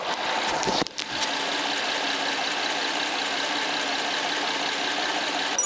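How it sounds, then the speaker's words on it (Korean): A 2011 Hyundai Grandeur HG 300 engine, about 190,000 km, idles steadily with a constant low hum and faint mechanical ticking, after a brief thump at the start. "내리셔서 엔진 소음 한번 들어보시죠 자 엔진 소음도 한번 들어보실게요"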